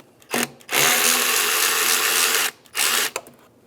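Power ratchet or small drill loosening a 10 mm band clamp on the intake tube of a 2007-2015 Mazda CX-9, a short whir, then a longer steady buzzing run and another short burst, close and loud.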